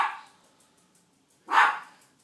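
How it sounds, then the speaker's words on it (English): Two separate dog barks come from some distance outdoors, one at the start and one about a second and a half later, with quiet in between. "Dogs are barking."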